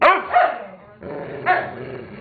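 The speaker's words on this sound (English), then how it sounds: "Don't bark. No barking." A dog lets out two sharp, close barks that trail into a low growl, loud and alone with no talking over it.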